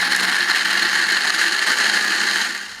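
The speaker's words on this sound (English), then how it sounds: "Run the blender until the cashews feel smooth like creamy cheese." Blender running on cashews, lemon juice and water, a loud steady motor whir that holds level throughout and eases off slightly at the very end, with no talking.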